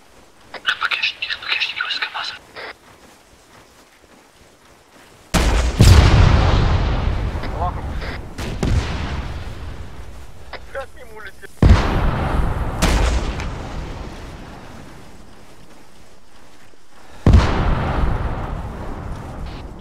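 Loud booming blasts in the Arma 3 military game: a heavy explosion followed by several more big detonations with long decaying rumbles, while someone speaks in Russian in between.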